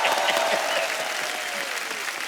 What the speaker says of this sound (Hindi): उदित जी के लिए भी ताली हो जाए